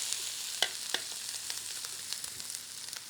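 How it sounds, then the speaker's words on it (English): Dried shrimps frying in hot oil with chilli and garlic, a steady close sizzle and crackle with a few sharper pops early on, no talking. "so we're going to put the shrimps in there."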